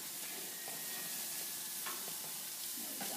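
Lamb chops and peaches sizzle on a grill, a loud, even, close hiss with a few faint crackles and no voices.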